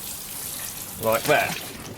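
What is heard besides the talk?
pouring water from a watering can onto seedlings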